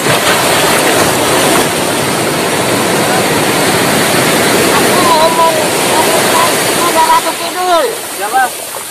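Large ocean waves crashing on a southern Java shore, a loud continuous roaring wash of surf with a person talking over it and birds chirping toward the end.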